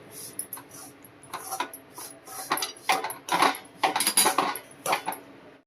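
A spoon scrapes and clinks steadily around a pan of melting jaggery, irregular metallic taps and stirs close by with no talking.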